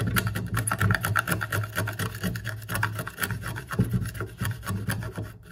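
A wood chisel pares the front face of a wooden housing joint flat for a candle holder. It makes a close, continuous rasping scrape in repeated strokes of fairly even rhythm, with no speech.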